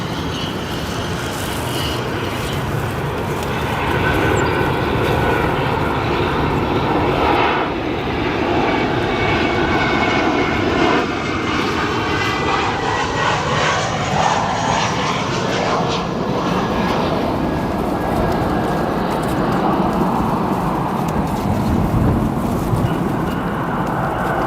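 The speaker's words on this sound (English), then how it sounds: "Apologies for the bit of shakiness there as he applies some strong reverse thrust" A Southwest Airlines 737-700 lands and applies strong reverse thrust, producing a loud, sustained jet roar that builds and holds close by, then gradually eases off.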